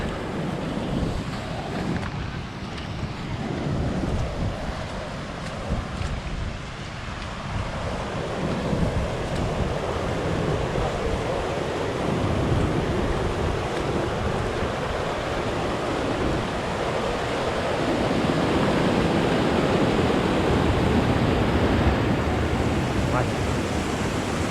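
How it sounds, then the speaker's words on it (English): Rushing water at the top of a waterfall on a Scottish hillside makes a steady, broadband roar that stays loud throughout, with some wind buffeting the microphone. "Just came to the top of this waterfall."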